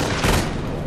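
Weapon fire in the World War II strategy game Company of Heroes, a short burst of rapid gunshots blending into a steady roar of battle noise with no voices.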